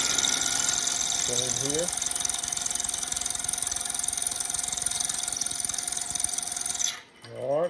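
Steady mechanical hum and whir of a wood lathe spinning a red cedar duck call blank, continuous and fairly loud, with a brief voice over it before it winds down near the end.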